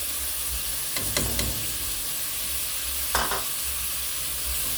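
Turmeric, black pepper, paprika and garam masala sizzling in a hot pan, a loud, steady frying hiss close by, broken by a few scraping stirs.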